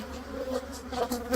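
Honeybees hum in a dense, continuous drone at an opened, neglected hive infested with varroa mites, close and steady with brief louder swells.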